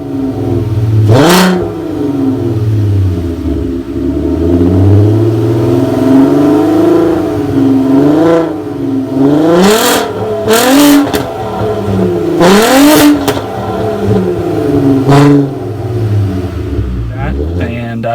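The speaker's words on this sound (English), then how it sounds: "I also did a muffler delete, which sounds amazing." A VW Jetta MK4 with a muffler delete and dual 3-inch tips revs repeatedly, the engine note rising and falling in several sharp bursts over a steady idle, loud and close.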